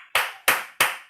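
At a church gathering, hands clap in four sharp, evenly spaced bursts, close and crisp with quick decay between each, welcoming an evangelist to the front.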